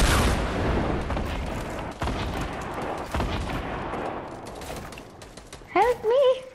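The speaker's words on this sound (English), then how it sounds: "crap, I'm getting shot at." Gunfire in the video game Fortnite rattles in dense, continuous bursts that gradually thin out, followed by a voice shouting near the end.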